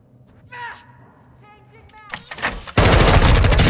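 Intense, sustained automatic gunfire erupts loud and close in Call of Duty Modern Warfare II, after a stretch of quieter game sounds and clipped radio-style voice callouts.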